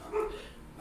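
Dogs barking from across the street, a short, fairly faint burst of barks at a distance, thin and brief under a low background murmur.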